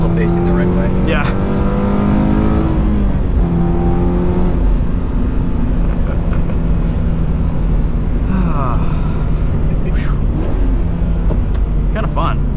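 A 2022 Subaru BRZ engine revs hard during a drift, rising and falling in pitch through several pulls over continuous tire and road roar, heard from inside the car while people talk.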